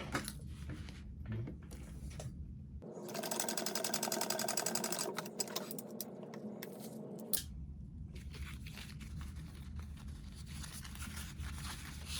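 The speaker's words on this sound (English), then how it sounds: "So go ahead and sew it with a 1/4 inch seam allowance." A home sewing machine runs a quarter-inch seam on a small fabric bug pack, starting after a few handling rustles, humming steadily for several seconds, then stopping, followed by quiet fabric shuffling.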